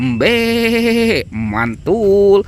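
A toy sheep lets out loud, wavering bleats, one long cry followed by two shorter ones, close by, with a person briefly speaking alongside.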